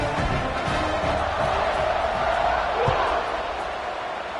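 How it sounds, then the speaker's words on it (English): A football stadium crowd buzzes and roars steadily as the teams line up for a kickoff, a dense wall of distant voices with a few louder thumps and shouts rising out of it. "this crowd is buzzing after that last score"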